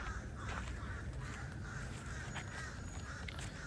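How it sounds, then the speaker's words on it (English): A crow caws repeatedly at a moderate distance. The short, harsh calls come in irregular bursts over a steady background hiss, and nobody speaks. "Hear that crow?"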